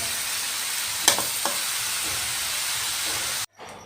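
Rice for a vegetable biryani hisses steadily in a kadhai as it is spread and stirred, with a couple of soft scrapes over the sizzle before it cuts out abruptly near the end.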